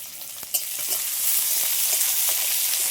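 Bay leaves and chopped garlic hit hot oil with a steady, close sizzle that swells after a sharp initial crackle, with faint clinks of stirring and no voices.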